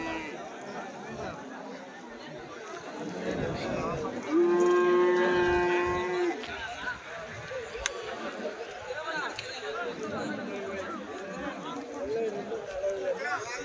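A single long, loud cow moo rises over the busy murmur of a crowded weekly Sunday cattle market in Chintamani, with people chattering throughout.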